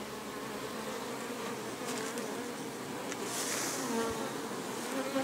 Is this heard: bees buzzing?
yes